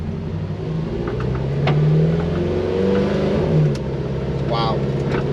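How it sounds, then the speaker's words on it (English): A Ferrari F430 eases away from rest under gentle throttle, its engine a steady close rumble that swells slightly as it pulls off, with brief voices over it. "You need to throttle it, but just nice and gentle, and it will pull away."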